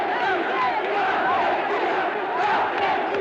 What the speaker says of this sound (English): When news of the invasion reached Buenos Aires, the crowds went wild.